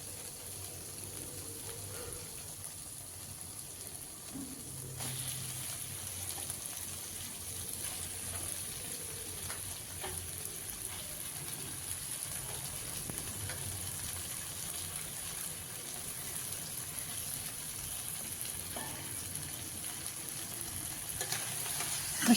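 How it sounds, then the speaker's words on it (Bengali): Malabar spinach tossed into spiced oil and stirred in a pan, the sizzle swelling louder once the greens go in and then holding as an even, close hiss with occasional stirring scrapes. "এবার পুঁই শাকগুলো দিয়ে দেব।"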